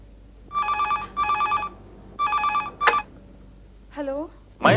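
An old-style telephone bell ringing with an incoming call, two-burst rings repeated in a regular pattern, loud and close, with a short voice and a rising tone breaking in near the end.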